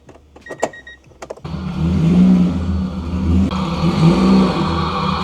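A supercharged Acura NSX engine cranks briefly and fires up around a second and a half in, then settles into a steady, loud running drone with a whirring edge. No one speaks.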